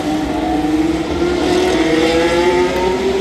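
Race cars at the Grand Prix of Long Beach, their engines droning loud and steady with rising pitch as one or two cars approach and run past, no talk.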